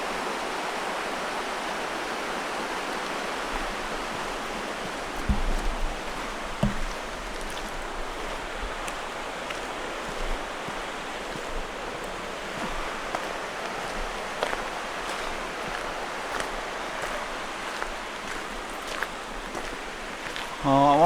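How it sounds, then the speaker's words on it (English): A creek flows along its creek bed on an off-grid homestead, giving a steady broadband rush of running water that holds at an even level throughout, with a few faint knocks and no talk. "The creek's still flowing in the creek bed."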